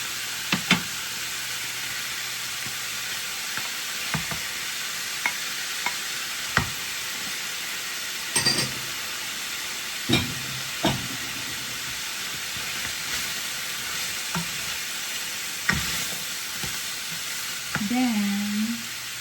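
Carrots and cabbage with elbow macaroni cooking in a pot for a creamy Filipino soup, a soft steady sizzle punctuated by sparse utensil knocks and clinks, ending with a brief murmur.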